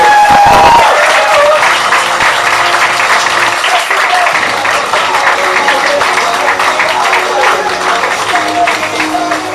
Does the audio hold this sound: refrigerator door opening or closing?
no